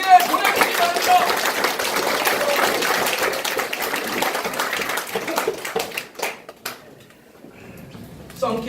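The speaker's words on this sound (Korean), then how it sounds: "이 제안에 동의하시면 박수 한번 크게 보내드리기 바랍니다." Audience applause at a campaign office opening in Jeju, a burst of close clapping that fades out after about six seconds, followed by scattered faint claps and quiet.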